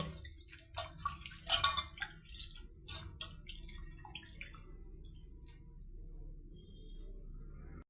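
Water splashes and drips as thuthi leaves are swished around in a basin, with soft sloshing and a few sharper splashes early on, fairly faint.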